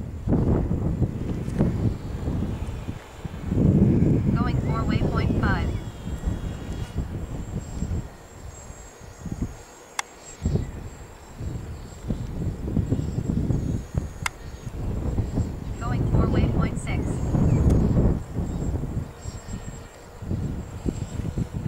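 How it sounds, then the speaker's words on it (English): Steady gusting wind roars around a small autonomous quadcopter flying a programmed waypoint route outdoors, buffeting the microphone continuously with brief lulls, and no one speaks. "Fighting the wind a bit,"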